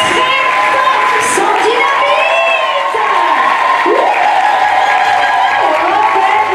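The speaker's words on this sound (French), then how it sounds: "On applaudit très très" A large crowd at a dance show claps and cheers loudly for Sandy, the organizer, with steady applause, whoops and high children's shouts, dense and continuous throughout.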